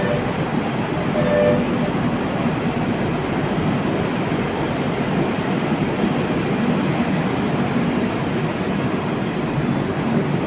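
The Karimnagar–Tirupati Humsafar Superfast Express pulls away from a station platform with a steady, close rumble of rolling wagons that holds evenly throughout.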